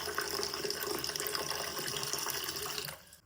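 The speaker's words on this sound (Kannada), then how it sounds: "ನೀರು ಹಾಕಿ" Water pours steadily into a vessel of jaggery, a dense continuous splashing rush close by that stops abruptly at the end.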